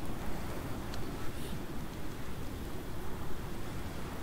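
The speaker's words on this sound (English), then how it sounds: "Oh, it's just the wind" Wind blowing through the survival game Icarus, a steady, even rush of broadband noise with a low rumble that holds at a constant level for about four seconds, with no other distinct sounds standing out.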